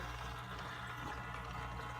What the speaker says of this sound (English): Water goes in through the clay media